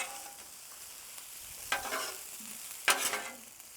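Sausage fried rice on a Blackstone griddle sizzles softly as a spatula scrapes and tosses it, with two louder bursts of metal scraping and stirring near the end.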